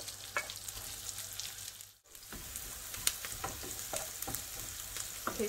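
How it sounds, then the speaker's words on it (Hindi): Sweet pepper frying in a pan for a homemade Turkish breakfast, a steady close sizzle with small pops and crackles throughout, broken by a brief dip in the middle. "इसको भी इतना टाइम नहीं लगता पेपर को फ्राई होने में"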